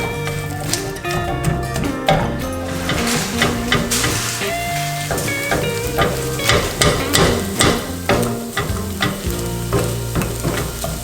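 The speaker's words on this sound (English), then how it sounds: "Mix all your paneer with the tomatoes and gravy." Paneer being stirred into tomatoes and gravy in a hot pan for paneer tikka masala: loud, continuous frying with repeated close spatula knocks and scrapes in an uneven rhythm.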